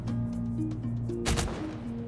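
A short burst of gunfire in the battle royale game Cyber Hunter, one loud crack cutting through a steady hum of in-game music and ambience.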